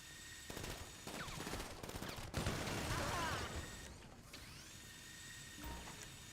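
Rapid gunfire in the video game GTA 5, bursts of shots crackling over a busy game soundscape, with a voice talking briefly during the fire.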